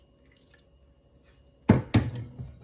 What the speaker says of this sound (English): add just a little splash of water to this plate